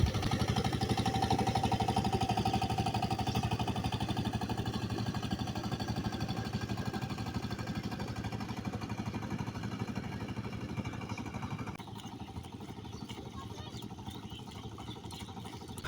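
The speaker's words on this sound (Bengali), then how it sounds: "এরপর জমি সমান করার জন্য পাওয়ার টিলার দিয়েই মই টেনে দিতে হয়" A power tiller engine drags a wooden ladder to level a village paddy field in Tangail, running as a steady, close, chugging drone that eases slightly in loudness near the end, with no talk.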